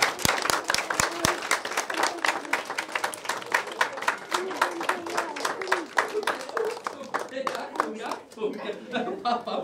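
An audience applauds a speaker at a stage event, with sustained clapping from a crowd that starts in crisp individual claps, swells into dense applause and gradually thins out, close and loud.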